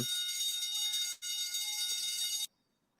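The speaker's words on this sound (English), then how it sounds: "we are gonna ring the consumer alarm" A harsh electronic alarm buzzes loudly for a couple of seconds, briefly cutting out once, then stops abruptly into silence.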